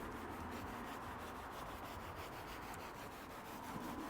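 Scrub pad worked in straight lines over car seat upholstery during a detailing job, giving a steady, continuous rubbing and scuffing sound, close and fairly quiet, with no talk.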